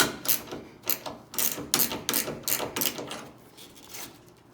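A ratcheting wrench tightens a tonneau cover clamp on a 2019-2026 Chevy Silverado pickup, a close series of rhythmic clicking strokes, about eight in a row, each a quick ratchet burst.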